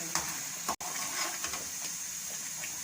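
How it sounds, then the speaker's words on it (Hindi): Bottle gourd (petha) halwa frying and being stirred in a pan, a soft steady sizzle with faint scraping strokes and one brief dropout. "अब हम इसकी मज़ीद भुनाई कर रहे हैं।"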